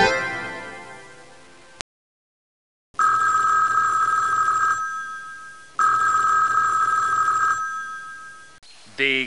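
A Sesame Street learning-game telephone rings twice in loud, sustained electronic trills with a short silence between rings, preceded by a brief voice and ending with a quick chirp.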